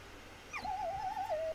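A dog whimpers in the game Maid of Sker: a rising high yelp and then a long wavering whine, close and clear over a low ambient hum, with no talk.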